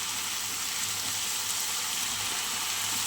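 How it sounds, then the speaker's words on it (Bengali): Shrimp and fig curry sizzles steadily in a pan as it is sautéed, a continuous bright frying hiss with no pauses or voices. "চলো এবার সুন্দর করে কষিয়ে নিই।"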